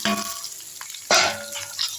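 Sliced onions drop into garlic frying in a pan, giving a sudden loud burst of sizzling that settles into a steady crackle, with brief stirring clatter before and after.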